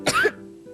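A single short, close cough bursts out and fades quickly into near silence.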